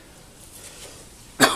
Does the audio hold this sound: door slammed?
no